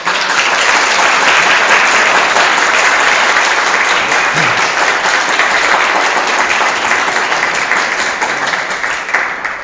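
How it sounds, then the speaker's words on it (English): A large congregation at a Sunday service applauds steadily after a speaker finishes, a dense, loud wash of clapping that holds at a constant level throughout, with no voices standing out. "let's give her another round of applause, please"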